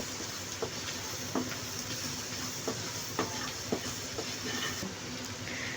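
Maggi masala being stirred into egg in a hot pan for street-style egg noodles, a steady soft sizzle with a few scattered scraping taps of the spatula, moderately quiet throughout.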